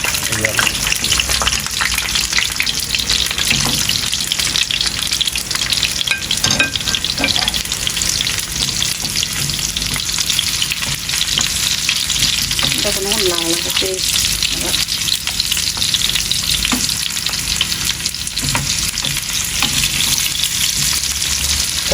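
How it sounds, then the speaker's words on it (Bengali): Small whole potatoes fry in hot oil for kacchi biryani, a steady loud sizzle running throughout with occasional stirring clatter and a faint voice in the background. "এই আলু তেলের মধ্যে দিচ্ছে হতে থাকুক ভাজা হইতে থাকুক"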